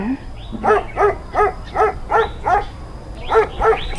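A dog barks in a steady series of about eight evenly spaced barks, close and fairly loud.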